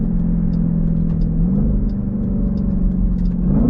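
A Jeep Trackhawk's V8 exhaust note: a loud, close, steady deep rumble with rising revs near the end, no distinct crackles or pops standing out.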